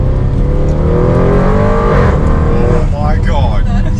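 A 700 WHP Audi RS7 accelerates hard, its engine roaring loud and close with a rising note and a sharp shift around the third second, while people talk excitedly over it.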